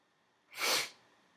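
A single sharp, close sneeze bursts out after a brief silence, followed by a short breathy trail.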